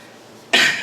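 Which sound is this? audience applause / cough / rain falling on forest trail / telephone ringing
cough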